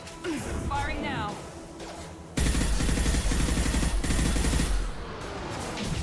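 Automatic gunfire erupts in Mass Effect 2, a loud continuous rattle of rapid shots that runs for a few seconds after a brief stretch of quieter game sound and talk.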